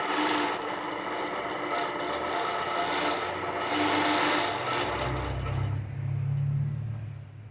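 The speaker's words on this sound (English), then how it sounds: "And this one's the Gallant, or Gallant, and it's stitch regulated on an 8-foot frame with the idler rail." A Gallant stitch-regulated quilting machine on an 8-foot frame with an idler rail runs in a steady, loud mechanical whir, then winds down and gives way to a lower hum near the end.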